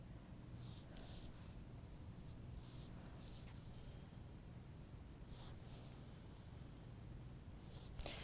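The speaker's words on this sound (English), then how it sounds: "Drawing the arms of the dart in, and I'm going to extend them a little bit into the stitching line there" A pen or pencil drawing lines on a paper sewing pattern, several short bright scratchy strokes in separate bursts over a soft background, close and quiet.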